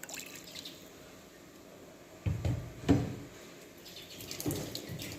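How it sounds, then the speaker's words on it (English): A little water poured into a pan holding oyster sauce while making a sauce for peppered steak, heard as quiet trickling with a couple of soft splashes and clinks near the middle, no speech. "I'm going to add some water to that."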